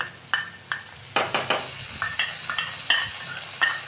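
Spice paste from a soybean curry recipe sizzles and hisses in a pan of frying onions while a spoon stirs, with a rhythm of repeated scraping strokes and bursts of frying, close and fairly loud, no talking.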